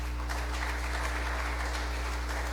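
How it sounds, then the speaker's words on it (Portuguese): A church congregation at a Quadrangular evangelical service applauds in praise of Jesus: a steady, even wash of many hands clapping that lasts throughout, with a low hum from the sound system underneath. "Você pode aplaudir a Jesus?"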